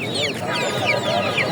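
Chickens and chicks at a village poultry market give off a constant overlapping chorus of high peeping and clucking, with a busy crowd murmuring underneath.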